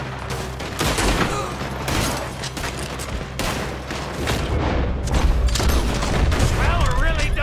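Repeated gunfire from Red Dead Redemption 2 during a robbery shootout, rapid overlapping shots and booms in bursts, loud and close, mixed with character voices talking and shouting.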